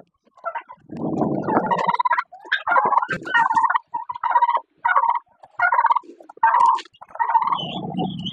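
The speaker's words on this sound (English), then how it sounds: "Hungry birds." Farm turkeys gobble loudly and repeatedly at close range, a run of rapid bursts of calls one after another with no talking, the flock sounding hungry and eager for food during morning chores.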